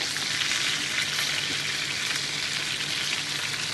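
A large tilapia fish frying in oil, giving a steady, dense sizzle and crackle that holds evenly throughout at moderate loudness with no talk.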